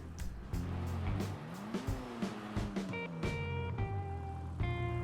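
Entity XXR supercar in GTA 5 Online accelerating hard, its engine whine climbing and dropping through repeated gear shifts, with brief tire squeals, close and loud with no talk.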